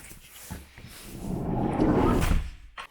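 A sliding door rolls along its track on newly fitted quiet rollers, a low rumble that swells and fades over about two seconds and ends in a small clunk, close by with no talking.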